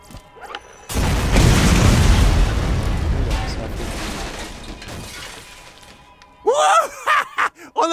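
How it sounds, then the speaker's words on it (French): A sudden loud booming video game explosion in Borderlands erupts and rumbles on for several seconds before fading, followed by a burst of chirpy, bright effects. "On a entendu l'explosion jusqu'ici."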